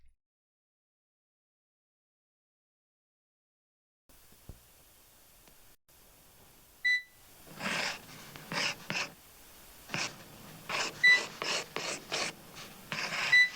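Scratchy pen or pencil strokes drawing a bear, in a 1982 computer game, come as a burst of short rasping bursts after a quiet start, close and fairly loud with uneven rhythm.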